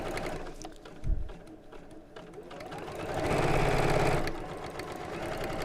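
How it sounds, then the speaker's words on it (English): A sewing machine stitches down the sides of a box pleat cosmetic pouch in contrast thread, a steady close mechanical whirr that builds into a sustained run after a short pause and a thump. "And then I'll sew down each side just to hold that in place."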